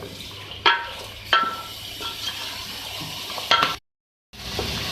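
Beef pieces fry with masala and a splash of water for aloo gosht in a pan, giving a low sizzle with a few sharp stirring clatters, then a brief gap of silence before the sizzle returns.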